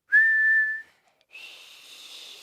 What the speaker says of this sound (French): Cela s'appelle siffler.